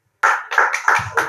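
A few sharp hand claps sound nearby at a school event, four or five distinct slaps in a loose rhythm rather than a full crowd.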